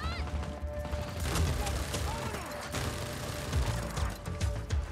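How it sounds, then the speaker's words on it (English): Gunfire in the video game Just Cause 4, with several sharp shots and bursts scattered among mechanical clatter and vehicle noise, fairly loud and irregular. "Who else is shooting?"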